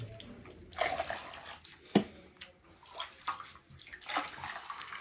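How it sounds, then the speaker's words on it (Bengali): Milk splashes and trickles in uneven bursts as it is poured into clay pots to set homemade yogurt, close and moderately loud, with short pauses between pours. "এখন হচ্ছে এগুলো হাঁড়িতে ঢালা হবে।"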